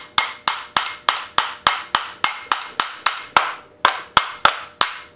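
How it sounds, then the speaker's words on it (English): A hammer with a pointed striking face taps a punch during a dual-action sander repair: about sixteen sharp, evenly spaced metallic knocks, close and loud, with a brief pause before the last few. "So I'm going to use the magic hammer."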